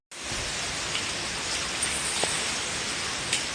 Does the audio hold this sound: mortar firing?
no